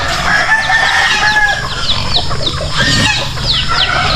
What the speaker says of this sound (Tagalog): Madami na naman itong mga manok.